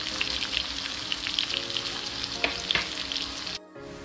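Garlic fries in hot oil in a pan, a continuous bright sizzle with occasional clinks of a utensil stirring, then the sound cuts off abruptly near the end.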